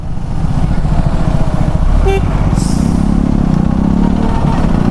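A motorcycle engine labours and rumbles up close as it accelerates slowly in second gear on a road in Nepal, with a short horn toot in the middle.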